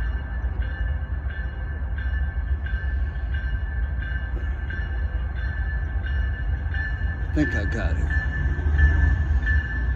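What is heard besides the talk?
long intermodal freight train passing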